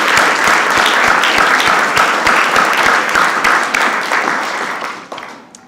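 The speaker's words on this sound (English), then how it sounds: "Let's have a round of applause for the great staff" Loud audience applause at a White House bill-signing ceremony, a thick, sustained roar of clapping close by that stays strong for several seconds before dying away at the end.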